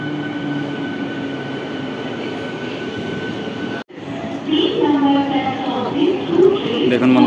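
At Dankuni station, the Howrah–Patna Jan Shatabdi Express overtakes the Howrah–Chandanpur local with a steady rail rumble and a brief drop midway. Someone talks over the train noise in the second half.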